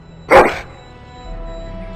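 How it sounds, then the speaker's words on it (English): A single dog bark from the video game Dragon Age: Origins, a short, fairly loud yelp in a quiet scene, followed by a low steady background hum. "That is a wonderful dog."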